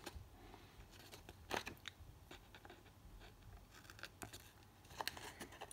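Scissors cutting small bits off a paper box, a few faint, sparse snips and crisp rustles at close range with quiet gaps between them and no talking.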